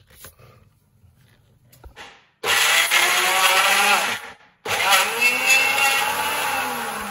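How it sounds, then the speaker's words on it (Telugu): A mixer grinder blends fried bitter gourd pieces into chilli powder, running in two loud whirring bursts with a short pause between, after a quiet lead-in with faint handling sounds. "ఇప్పుడు క్యాప్ పెట్టి తిప్పుకొని వచ్చిందాం"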